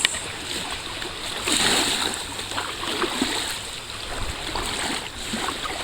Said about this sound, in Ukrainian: подивимось на, на воду, послухаємо цей морський бриз.